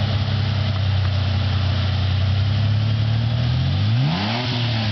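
A 1998 Ford Ranger pickup with a 4.0 engine runs loudly close by, holding a steady rumbling idle, then its pitch sweeps up and back down as it revs near the end.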